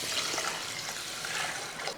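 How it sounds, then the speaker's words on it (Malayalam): Water poured into a pot of rice being readied for a kusksa biryani, a steady close splashing trickle lasting the whole moment with no voices. "ഇതിൻ്റെ അകത്തോട്ട് കുറച്ച് വെള്ളം ഒഴിച്ചങ്ങോട്ട് വെക്കാം"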